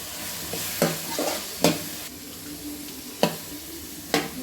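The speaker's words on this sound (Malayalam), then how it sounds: "ഇനി നമുക്ക് ഇതിലേക്ക് ഇഞ്ചി വെളുത്തുള്ളി പേസ്റ്റ് ഇട്ട് കൊടുക്കാം" Onions, ginger garlic paste and green chillies fry in a pan for a beef curry, a steady close sizzle broken by four or five sharp scraping stirs of a spoon, with no voices.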